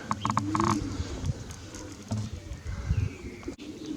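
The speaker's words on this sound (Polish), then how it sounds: "grupka doskonałych gołębi jako prezent urodzinowy" Soft pigeon cooing repeats amid rustling and light mechanical patter, with a brief clatter near the end.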